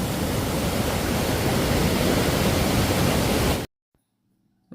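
A strongly flowing waterfall on a coffee estate roars as loud, dense, steady rushing noise that cuts off abruptly near the end, leaving near silence.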